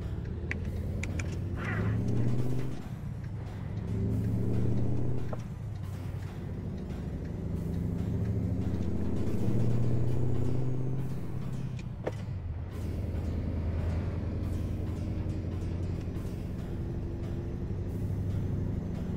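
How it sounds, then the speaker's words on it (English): Truck driving in American Truck Simulator with a Max Torque 12-speed gearbox, a steady low engine drone with rising and falling swells as it accelerates, plus occasional faint clicks. "I'm gonna test out the top speed of this truck"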